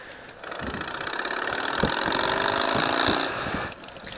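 A motorcycle idles steadily through its exhaust, a mid-pitched engine drone with irregular low pops, rising slightly and then easing back over a few seconds.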